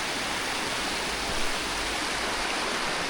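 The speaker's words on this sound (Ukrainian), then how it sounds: "Там он згори, дивіться, біжить. Бачите струмок?" A mountain stream in the Carpathians rushes steadily, a soft, even wash of flowing water with no voices and no change over a few seconds.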